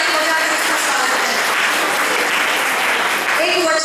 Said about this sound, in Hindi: तो आज जोरदार ताली बजाएं और हमारे यीशु मसीह का जोरदार ताली बजाकर उसका स्वागत